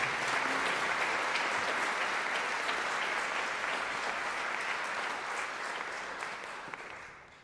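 A concert audience applauds a big band, dense clapping that is loud and sustained at first and then gradually thins out toward the end.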